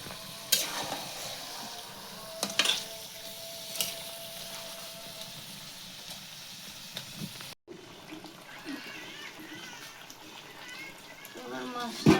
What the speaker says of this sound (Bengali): মাছটা আমি সুন্দরভাবে কষা কষা করব।